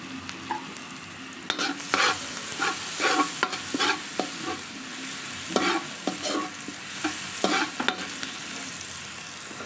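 Garlic sizzles and fries in a hot pan while a utensil stirs and scrapes it in repeated strokes, with a steady crackle running beneath the intermittent clatter.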